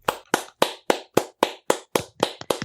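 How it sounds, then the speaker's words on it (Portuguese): A single person claps at a steady, brisk rhythm, about ten sharp, close hand claps in a row, each one distinct with a short decay and brief gaps between. "eu queria puxar aqui uma salva de palmas para a Janaína Pascoal por essa bela decisão"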